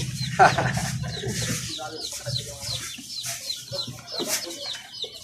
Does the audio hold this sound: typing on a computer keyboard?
no